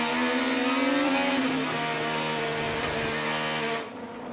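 Onboard the Hy-Vee Honda IndyCar at a road course race, the engine screams at high revs through upshifts, loud and close, then drops sharply as the driver lifts near the end.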